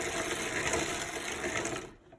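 Sewing machine stitching a fabric facial scrubby, a steady close mechanical whir running evenly for about two seconds before cutting off abruptly.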